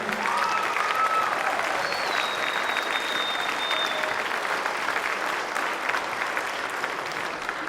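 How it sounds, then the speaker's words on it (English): Sustained applause from a concert audience for a middle school orchestra, a dense wash of clapping at steady loudness with a faint high whistle or tone gliding through early on. "let's have another hand for the middle school orchestra"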